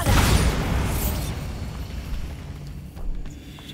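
A Bombarda blasting spell goes off in the Hogwarts Legacy video game: a heavy explosive boom at the start, then a long rumbling decay with debris-like crackle and a smaller thump near the end.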